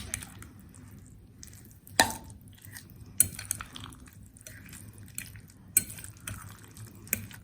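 A spoon mixes guacamole with lemon juice in a bowl. Sharp clinks of the utensil against the dish sound every second or so, with soft wet squelches between them, alone and close.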